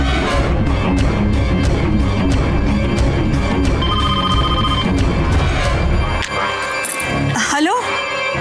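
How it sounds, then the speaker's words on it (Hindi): A mobile phone rings with an electronic ringtone in a Hindi TV drama scene, its repeated tones sounding over loud dramatic background music. "मेरा फोन।"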